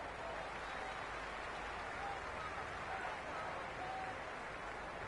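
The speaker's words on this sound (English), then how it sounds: "The crowd are really getting quite raucous." A raucous cricket stadium crowd in the video game Cricket 26, India versus South Africa T20 warm-up in Mumbai: a dense, continuous roar of cheering and noise, steady and loud, with a commentator's voice faintly beneath it.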